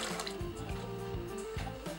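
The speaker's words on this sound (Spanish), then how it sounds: "tenemos dispuesta al fuego una ollita con agua, la que vamos a poner primero los garbanzos" Chickpeas tumble into a small pot of water heating on the stove for an olla gitana stew, making watery splashes and gurgling, fill-like tones with a few soft plops, close by and without speech.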